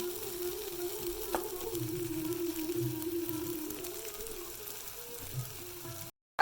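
Homemade Thai spice paste cooking in separated oil sizzles with a soft, continuous hiss and faint bubbling, close and steady, ending abruptly.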